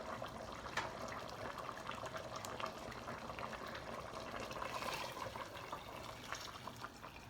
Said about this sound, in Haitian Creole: Quand on va mettre de l'eau chaude.